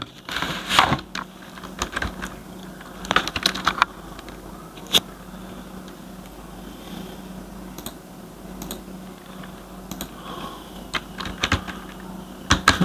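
Bengali text is typed on a computer keyboard, with scattered bursts of soft key clicks and occasional sharper taps over a low steady hum, close by and without any talking.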